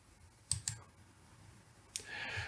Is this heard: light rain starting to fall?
no